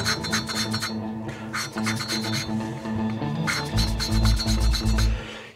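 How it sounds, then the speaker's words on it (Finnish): A motorcycle engine valve is lapped against its seat with grinding paste, giving a repeated dry rasping rub in short back-and-forth bursts, close and steady, with brief pauses between strokes. "Ja sit lähdetään läppäämään."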